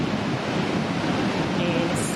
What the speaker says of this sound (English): the white water rushing, starting to go through that white area that was still